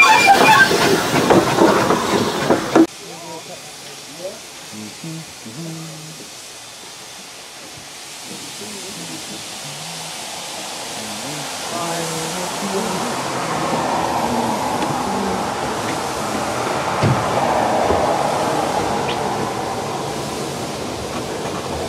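A Welshpool and Llanfair Light Railway train, heard from the rear carriage, rolls along steadily with a rushing hiss and rumble that grows louder, faint rhythmic clacking of wheels over rail joints. No talking.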